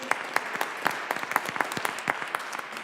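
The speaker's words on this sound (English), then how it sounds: "Just give them a round of applause for the work that they actually do." Audience applause at a school board of education reorganization meeting, a steady patter of many hands clapping together for about three seconds at moderate level, with no voices over it.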